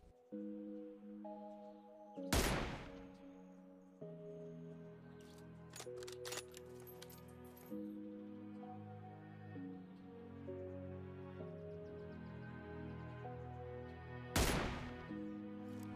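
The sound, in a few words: sniper rifle shots in PUBG Mobile video game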